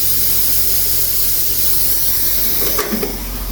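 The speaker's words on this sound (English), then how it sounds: "So we're primarily going to be flattening, taking all the glue beads off with the 36 grit." A belt sander with 36 grit flattens a walnut and cherry end grain butcher block, producing a loud, steady broadband hiss that runs continuously and is close to the listener.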